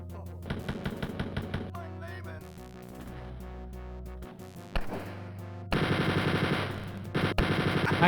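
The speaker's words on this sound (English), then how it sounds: "I hate how they can shoot around the corner like that." Enemy gunfire in the video game Wolfenstein 3D comes as loud bursts of rapid machine-gun shots, broken by short pauses, with a long sustained barrage toward the end. No one speaks.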